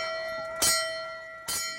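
Ship's bell on an old boat struck twice, each bright clang ringing out and then fading, heard alone and close.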